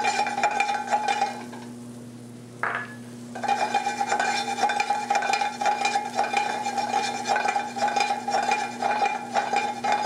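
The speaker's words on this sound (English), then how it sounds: "And now we'll saute our crab meat." Butter and thinly sliced green onions sauté in a pan, a steady sizzle with a spoon stirring and clinking against the pan, broken by a brief pause and a scrape partway through.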